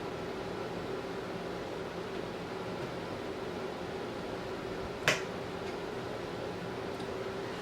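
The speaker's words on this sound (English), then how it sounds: "Did my air conditioner just come on as I was starting to talk?" A home air conditioner runs with a steady, even hum and broad whoosh of airflow throughout, close and constant, with a single sharp click partway through.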